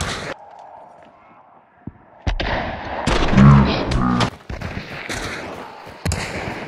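Several loud, close gunshots from the Hunt: Showdown video game ring out in a cluster mid-clip, with sharp cracks and booming tails, after a quieter stretch of ambient game noise.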